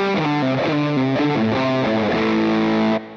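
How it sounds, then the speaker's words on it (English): A heavily distorted electric guitar played through a Jam Pedals Rattler fuzz pedal plays a fuzzy, saturated chord-and-note riff, loud and sustained, cutting off abruptly at the end. "you're obviously getting into those fuzz tones and it breaks up in a really nice way."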